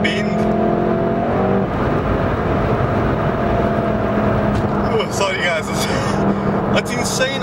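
A Volkswagen Golf Clubsport S is driven hard through a bend, heard from the cabin as a loud, steady engine drone with rising and falling pitch, along with tyre and road roar and someone talking over it.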